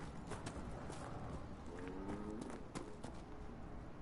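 Hooves of a riderless horse in Dragon Age: Inquisition clatter off at a gallop, a quiet, rapid clip-clop rhythm receding over a soft game ambience with faint birdsong.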